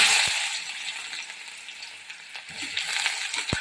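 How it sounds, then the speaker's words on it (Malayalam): Mustard seeds spluttering and popping in hot cooking oil, a steady close sizzle dotted with sharp little crackles, no voices over it. "എണ്ണ ചൂടായി കടുകിട്ട കടുക് പെട്ടെന്ന് പൊട്ടും"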